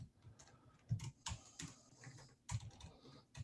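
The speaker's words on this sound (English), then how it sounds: "I cannot type today." Typing on a computer keyboard close by, a quiet, uneven run of key clicks with a few louder strikes, no voices.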